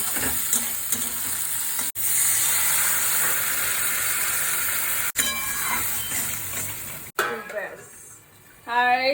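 A potato curry cooks in a pan on a home kitchen stove, giving off a steady frying sizzle and hiss that cuts out briefly a few times, with some clatter near the end.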